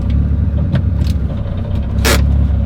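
A Mitsubishi Evo with a blown intercooler pipe rolls into a driveway, its engine rumbling low and steady up close, with a brief scraping rattle near the end.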